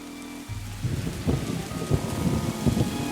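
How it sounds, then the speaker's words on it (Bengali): Heavy rain with thunder used as an audio drama effect: a dense, loud hiss of downpour on surfaces with deep rolling thunder underneath, continuous throughout and with no voices. "এ তো ভীষণ বৃষ্টি হচ্ছে"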